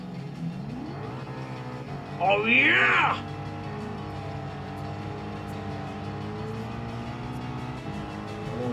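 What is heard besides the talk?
rally cars racing in video game Gran Turismo 7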